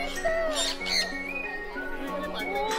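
Birds squawking close by at Safari World Bangkok, several harsh calls and chirps overlapping in quick succession while people talk excitedly nearby.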